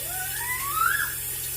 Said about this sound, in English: I'm using cold water because cold water helps to stop the cooking process.